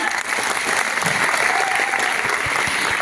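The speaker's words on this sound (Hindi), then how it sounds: "एक जोरदार तालियां" Applause from an audience at a marketing company meeting, dense continuous clapping filling the room for a few seconds with no voices on top.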